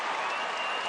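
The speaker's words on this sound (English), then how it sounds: "To the roar of this sellout crowd at Fiserv Forum" A sellout crowd roaring at a college basketball game at Fiserv Forum, Marquette against Texas, a dense continuous wash of cheering and applause filling the arena, loud and unbroken.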